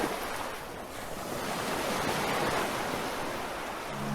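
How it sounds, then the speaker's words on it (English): Slow waves roll and wash continuously around a foggy island in a Roblox game, a broad, steady surf hiss that stays loud and even throughout with no voices. "The slow waves of the water leave you at ease as you maneuver your way through this foggy environment"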